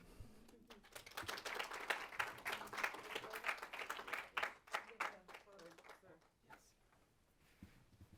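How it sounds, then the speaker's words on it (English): Audience applause at a trade and international affairs symposium, a dense run of clapping that swells and then thins out toward the end, with a voice coming in over the last moments. "another round of applause and a thank you for Dr. Tobias"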